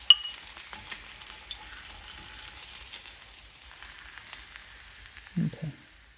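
Fish shallow frying in oil for a fish curry, a soft steady sizzle with faint crackles running throughout, then a brief low clatter of handling near the end; no talk.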